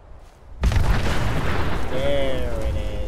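A single explosion booms in Fallout 76 after a quiet lead-in, a sudden heavy blast with a deep low thud that stays loud and rumbling, and a rising electronic tone enters partway through.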